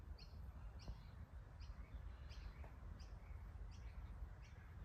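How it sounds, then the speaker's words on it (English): A young magpie calls in a backyard garden in Australia, its faint, distant notes repeating at a steady rhythm over a constant low hum of outdoor noise. "Here I have a bird come visit me in the garden. What they call a magpie."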